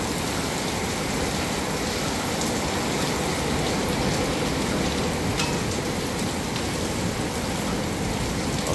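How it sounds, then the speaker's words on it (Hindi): Heavy rain pouring down in a dense, constant hiss, steady and loud with no pauses or voices. "बहुत स्पीड से बारिश हो रही है अभी,"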